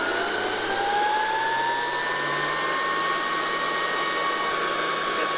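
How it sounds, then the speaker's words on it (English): An electric air compressor motor runs steadily while filling an HP Max airgun, a loud continuous whine with a rising tone as pressure builds, heard alone. "Start on the compressor."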